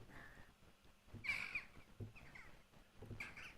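Crows cawing, a few harsh calls spaced apart, fairly close and moderately loud over a quiet background.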